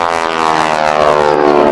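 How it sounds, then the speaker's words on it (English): A propeller trainer airplane with a Pratt & Whitney radial engine performs aerobatics at the Riverside air show, its loud, close engine drone pulsing steadily with rich layered tones. "as Vicki is performing this airplane, you will see her doing what we described as the four basic aerobatic maneuvers"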